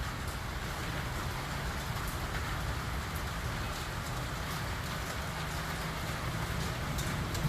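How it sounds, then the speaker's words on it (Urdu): Heavy rain and hail during a thunderstorm in Islamabad make a dense, constant roar of pelting drops and hard hits, steady and fairly loud throughout, with no voices. "بلکہ اولے آ رہے ہیں جی. آپ کو شور محسوس ہو رہا ہوگا."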